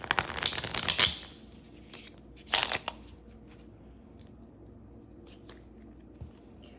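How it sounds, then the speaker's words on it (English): Storymatic cards shuffled and pulled from a deck in short, close bursts of crisp paper riffling and sliding, with quiet pauses between handlings and no speech. "let's pull some Storymatic cards"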